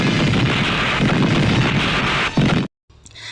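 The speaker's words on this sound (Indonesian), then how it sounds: "Lalu Gulati pun tewas meledak." A long, loud roaring blast rumbles for over two seconds, then cuts off abruptly into near silence with faint rustling noise.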